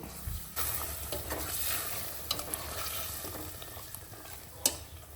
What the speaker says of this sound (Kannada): ಫಸ್ಟು ಸ್ವಲ್ಪ ಒಗ್ಗರಣೆ ಮಾಡ್ಕೋಬೇಕು